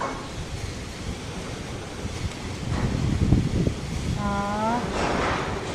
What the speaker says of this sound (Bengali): হাওয়াটা দিচ্ছে খুব সুন্দর